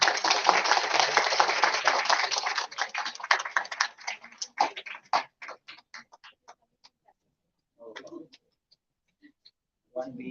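Applause from a conference audience at a management conclave in Jaipur: dense clapping fades into scattered claps over several seconds, then brief bursts of speech follow.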